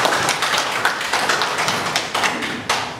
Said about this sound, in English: You can clap hands for that.